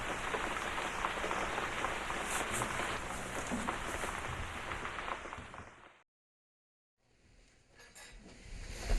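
Steady rain pours down as a dense, loud hiss for several seconds, then cuts out abruptly to silence before fainter ambient noise returns.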